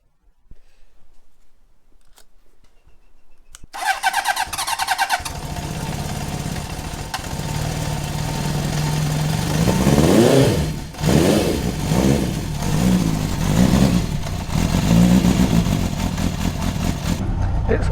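A Honda CB750 K project motorcycle cranks and fires, then settles into a loud, rough idle with repeated revs swelling and falling close by. A voice is heard faintly at times beneath the engine.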